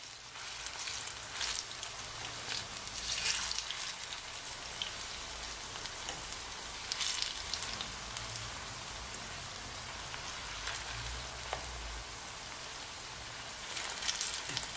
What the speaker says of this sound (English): So now I'm gonna flip over my plantain.